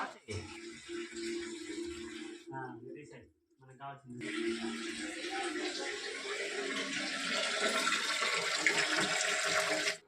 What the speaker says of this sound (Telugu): వచ్చేసాయిరా నీళ్ళు బయటకు వస్తున్నాయి